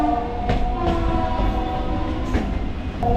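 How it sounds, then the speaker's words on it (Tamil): A loud, sustained train horn blares over the heavy rumble of a moving train near Pattabiram, Chennai, with occasional rattling clanks. "ஒரு ஹாரன் சவுண்ட் மட்டும் ரொம்பவே சவுண்டாக கேட்டுட்டு இருந்தது"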